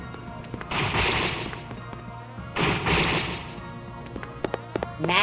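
Two big booming bursts of explosions in the Ys 1 video game, each lasting about a second, separated by a pause and followed by several sharp clicking hits.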